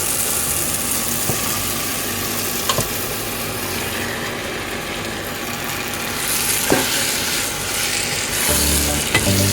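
Chicken frying in curry masala in a pan sizzles in a steady hiss, with occasional clicks and stirring scrapes, and louder bursts of sizzling near the end.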